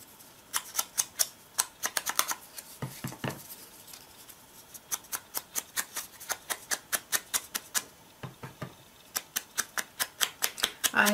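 Scissors cutting a paper banner for a card, a close series of crisp snips in quick bursts with short pauses between runs, no talk.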